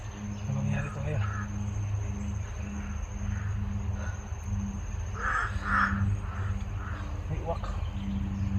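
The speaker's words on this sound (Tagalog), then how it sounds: "May uwak." A crow caws several times at a distance over a constant insect drone and low hum, with people talking nearby.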